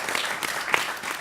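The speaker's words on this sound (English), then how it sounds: "so applause for all of you" Audience applause for a panel at an event with Kajol Devgan and Adi Godrej, a brief spell of moderately soft, even clapping with a few sharper claps standing out.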